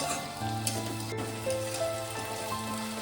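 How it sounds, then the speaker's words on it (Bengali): Potato pieces frying for a couple of minutes in an oil-tempered pan for Bengali beans aloo posto, giving a steady crackling sizzle with faint clinks and low steady tones, close and continuous with no talk. "আলুটা আমি মিনিট 2 একটু ভেজে নিলাম।"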